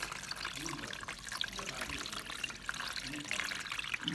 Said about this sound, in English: This is the running tap now. I am only rinsing it.